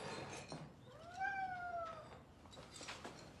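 A cat gives a single drawn-out meow with a clear, slightly falling pitch, heard close and alone against a quiet room.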